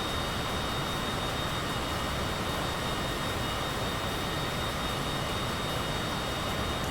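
Steady, loud jet engine roar of a modded Citation CJ4 business jet in Microsoft Flight Simulator 2020, a continuous broadband rush with a faint high whine, unchanging throughout.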